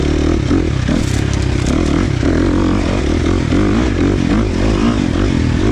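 A tuned KTM 350 XC-F dirt bike with a Vortex ECU revs hard and continuously while being ridden, its loud engine drone holding steady throughout.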